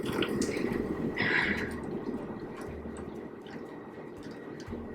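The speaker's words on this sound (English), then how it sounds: "I'm just going to pour some, this is freshly boiled water, into this jar." Freshly boiled water poured into a jar, a quiet steady trickle and gurgle with a brief brighter splash early on, faint and unaccompanied by speech.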